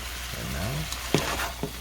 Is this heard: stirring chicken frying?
yes